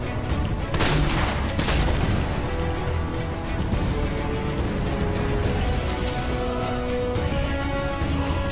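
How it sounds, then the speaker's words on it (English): Video game gunfire crackles almost nonstop, loud and dense, with overlapping shots and heavier blasts early on. "that shot just went right past me"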